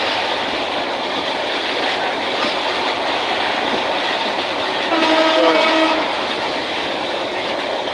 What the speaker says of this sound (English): now I am going to Dhaka by train